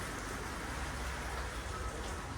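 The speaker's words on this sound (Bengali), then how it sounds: "ও মা, বৃষ্টি আসছে," Steady rain falling outside a home as a storm moves in, a dense, even patter of drops with a wind-like broadband hiss, constant and fairly close throughout with no voices.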